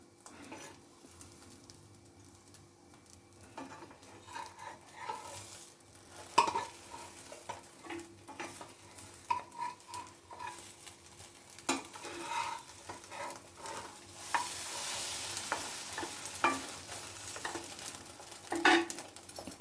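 An egg omelette fries in a pan, with a soft, steady sizzle under repeated scraping, stirring and clinking of a utensil against the pan, close and fairly quiet.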